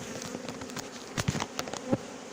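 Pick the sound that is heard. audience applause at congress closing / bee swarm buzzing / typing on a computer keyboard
bee swarm buzzing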